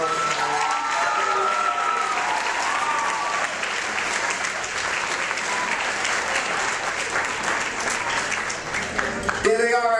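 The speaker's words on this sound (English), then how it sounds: "I'm going to have everybody clapping for them coming in" Sustained applause from a dinner audience filling a hall, dense continuous clapping with a voice speaking over it early on and a brief louder burst near the end.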